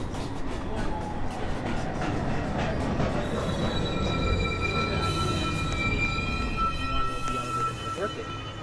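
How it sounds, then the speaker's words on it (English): A New York City subway 1 train arrives downtown at Beverly Road station during the evening rush hour, with rumbling wheels, metallic squeals and whining tones building up close, while announcements play over it. "This is a 1 train going downtown towards Rose Street."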